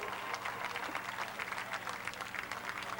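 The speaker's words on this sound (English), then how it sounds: "How about a round of applause as he takes a wave" Audience applause at a Columbus Motor Speedway Legends Cars race, a steady dense patter of many hands sounding distant and fairly faint across the whole stretch.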